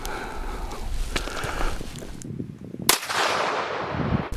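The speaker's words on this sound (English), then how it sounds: "See if I can land this shot. These guns are hard to shoot." A single gunshot firing a CCI VMAX high-velocity rimfire round at an affordable level IIIA body armor plate, one sharp crack outdoors amid wind noise, with rustling and handling sounds before and after.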